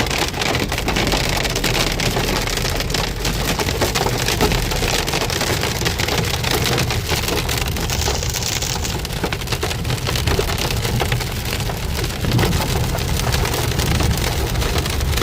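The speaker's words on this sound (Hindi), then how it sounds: "इतने बड़े बड़े ओले गिर रहे हैं रोडों पे" Dense, steady pelting of large hailstones on a car body and sunroof during a road drive, a continuous loud clatter with no voices.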